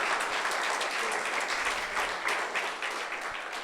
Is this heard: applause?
yes